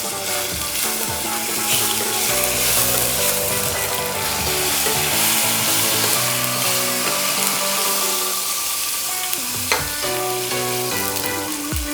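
Tomato hits hot oil seasoned with asafoetida in a home kitchen, a dense, loud sizzle and crackle that fills the space, with a spoon scraping and stirring through it and no talking.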